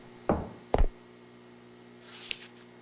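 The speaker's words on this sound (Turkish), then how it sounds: "Kapı sesi mi?" Two dull knocks close together, like a door in a horror video game, followed after a pause by a brief soft creak over a steady electrical hum.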